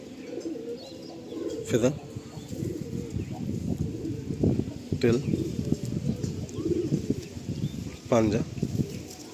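Madrasi breeder pigeons coo in low, repeated murmurs, close by, while someone talks over them almost continuously, with a few sharp sweeping calls cutting through at intervals.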